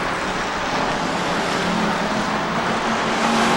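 Race cars roaring around a short-track oval at Rockford Speedway, a dense, steady wall of engine noise heard from a distance with no clear pass-by.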